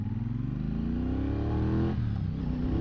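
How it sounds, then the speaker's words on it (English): A 2024 Triumph Bonneville Bobber motorcycle on its stock exhaust accelerating through the gears while ridden, engine pitch climbing steadily, then dropping at a shift and rising again. "And this might be one of the best stock exhaust sounds I've heard."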